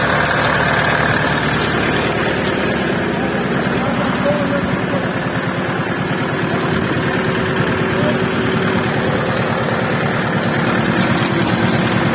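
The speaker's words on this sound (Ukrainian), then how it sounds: "Ось такий у нас тракторець." A Kentavr 404S tractor's heavy diesel engine idles steadily nearby, a loud, constant low rumble and throb with no pauses for the whole stretch.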